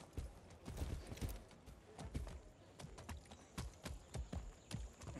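Steady clip-clopping horse hooves at a walking pace in Far Cry 6, fairly close, with a regular rhythm of sharp knocks over a quiet background.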